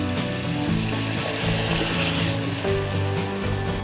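Boiling water poured into a pan of sautéed onions while cooking Singapore-style spicy shrimp sauce, producing a steady, loud sizzling hiss that runs throughout over faint background music.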